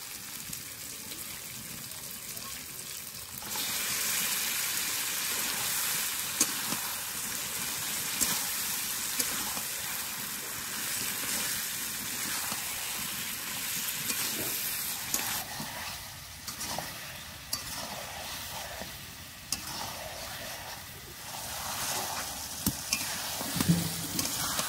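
Marinated mutton hits hot oil and spices for a mutton and potato curry, sizzling steadily and loudly for the whole stretch, with intermittent stirring scrapes and bursts of spattering.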